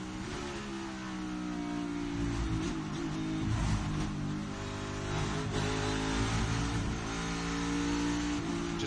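NASCAR Cup Series car engine revving hard through qualifying laps at Watkins Glen, a loud, continuous roar with rising and falling pitch as the throttle works and gears shift, steady throughout with no talk.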